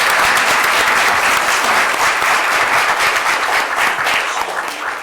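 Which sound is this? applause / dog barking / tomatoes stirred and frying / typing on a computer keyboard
applause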